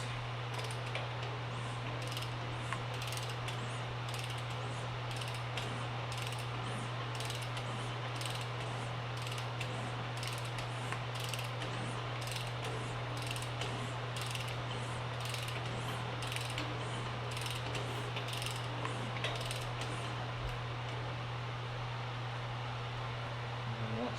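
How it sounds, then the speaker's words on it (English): A hand ratchet clicks steadily, turning a Crown Vic engine over to check pushrod length, the quiet rapid ticking carrying on for a long stretch over a constant low hum. "you can kind of roll your motor and see where it sits. Turn the motor a few times."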